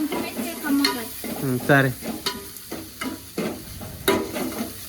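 Ginger garlic paste sizzles and fries in a hot pan for an aloo soya curry, with steady crackling and stirring scrapes running beneath a woman's conversational speech throughout.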